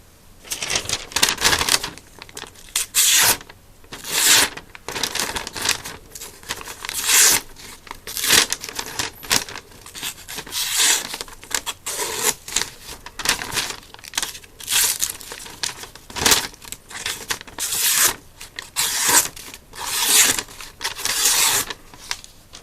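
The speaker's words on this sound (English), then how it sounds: "Before YouTube, my knives wouldn't cut that paper." A sharpened knife slicing through sheets of paper, repeated crisp rasping cuts in irregular bursts up close, each stroke a short loud swish separated by brief quiet gaps.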